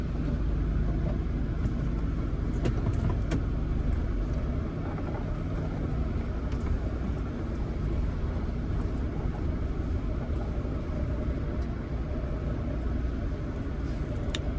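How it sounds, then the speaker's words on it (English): Mahindra Thar engine and drivetrain rumbling steadily from inside the cabin while the vehicle is driven hard, a loud continuous low drone with road noise throughout and no talking. "now I am driving this Thar, so let's give it the beans"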